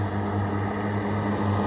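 A steady, loud propeller-aircraft engine drone from a nearby active runway in Victoria, Canada, with a low constant hum and broad roar and no voices.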